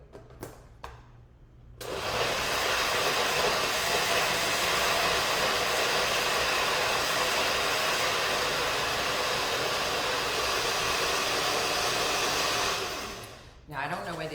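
A blender whirs loudly and steadily for about eleven seconds, blending a non-dairy blueberry lemon cheesecake mixture, starting abruptly after a few light knocks and cutting off near the end.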